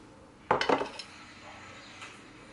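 Chicken mole and rice being plated, with a short burst of clinking utensil and dish contacts against a plate, several quick knocks close together, then quiet.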